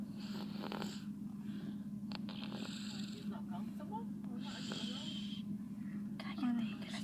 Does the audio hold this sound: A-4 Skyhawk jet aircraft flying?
no